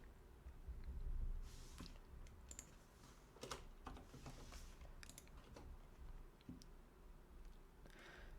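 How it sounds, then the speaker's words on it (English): Light clicking keystrokes from a computer keyboard as numbers are typed, scattered in quick irregular taps, quiet and close with no talking. "if we now type like a bunch of numbers here"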